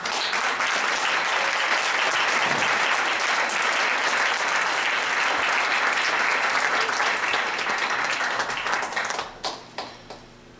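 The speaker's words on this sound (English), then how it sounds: "We applaud you. Give me a hand." A theatre audience gives a performing cast a long, loud burst of dense applause that holds steady for about nine seconds, then thins out into a few scattered final claps.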